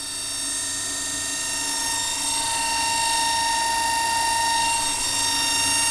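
A homemade universal motor rotor pulse motor under PWM control runs steadily with a loud, even whine and high pitched electrical hum that climbs slightly as it speeds up, alone without voices.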